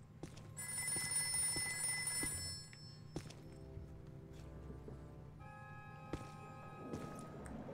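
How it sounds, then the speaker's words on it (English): A telephone rings in Ghostbusters: The Video Game, a sustained electronic bell tone for about two seconds over a low game ambience, followed by scattered thuds and quieter tonal effects. "Get the phone, Janine"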